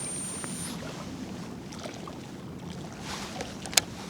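A Shimano 25 Antares DC baitcasting reel gives an abnormal high whine as the line pays out during a cast outdoors, thin and brief over steady wind-like rushing, with a sharp tick near the end.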